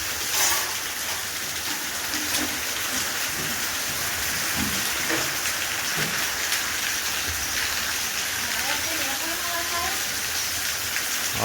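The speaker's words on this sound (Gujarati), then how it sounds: "વરસાદ આવી ગયો જો" Steady, dense rain falling throughout, a continuous hiss with scattered drips and a few faint background sounds.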